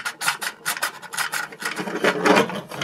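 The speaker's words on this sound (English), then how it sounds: "I can sand it now." Hardened filler on a Radio Shack Wheelie Bug toy is sanded by hand in quick back-and-forth strokes, a close, rhythmic rasping scrape repeating several times a second.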